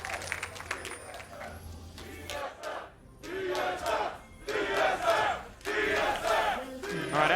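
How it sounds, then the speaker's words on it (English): A large arena crowd at a League of Legends esports match chants in rhythmic bursts with cheering swells, loud and echoing, the chants rising and falling in waves. "as we hear the crowd chant"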